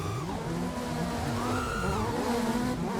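A drifting rally car in the Tryp FPV simulator game, with a continuous engine drone whose pitch swoops up and down as it revs and slides, steady and fairly loud throughout.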